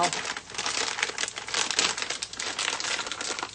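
A plastic bag of frozen corn being opened, with loud, close crinkling and rustling throughout.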